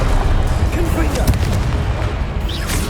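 Explosive booms from the Confringo blasting spell in Hogwarts Legacy land loud and close, with several impacts amid rumbling combat noise.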